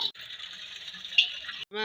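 Water rushes steadily into a water tank, a continuous hissing stream that cuts off briefly near the start and again at the end, heard close and alone.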